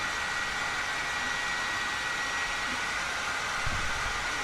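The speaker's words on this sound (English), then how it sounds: "I want the vacuum" A steady, loud whooshing roar of a vacuum cleaner running continuously at close range, with no breaks.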